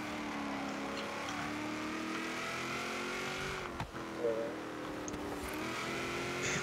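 Ute race car engine in Forza Horizon 3 on an outback highway circuit, a steady sustained drone that holds through the clip, with a brief dip and a small squeal-like blip partway through.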